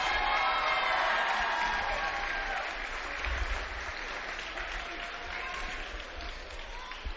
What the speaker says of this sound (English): they're all applauding for one of the players from East High